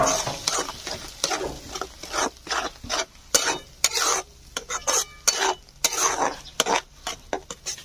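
Beaten eggs for egg bhurji being stirred in a frying pan, with repeated scraping strokes of a utensil against the pan in an uneven rhythm over a soft sizzle.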